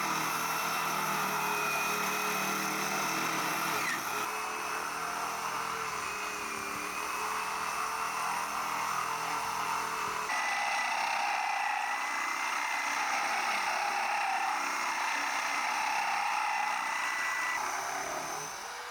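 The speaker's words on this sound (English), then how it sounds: "This wet drilling cools the stone, protects the bit, and prevents damage." A core drill wet-drills through dense stone for a long stretch, a continuous whining, droning tone with a slight pitch shift partway through.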